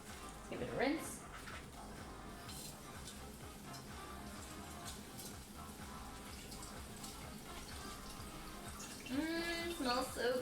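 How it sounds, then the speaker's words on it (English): Running tap water rinses fresh herbs such as Vietnamese coriander, a steady faint splash with brief louder bursts of handling near the start and end. "Give it a rinse."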